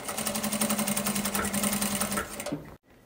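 A sewing machine stitches together the ends of a fabric strip for a small car trash bag, running steadily and close for over two seconds before stopping abruptly.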